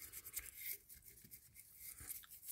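A regular toothbrush scrubs old grease and penetrating lube from the main gear housing of a Penn Senator II conventional fishing reel, in soft, quick, repeated bristle strokes heard up close.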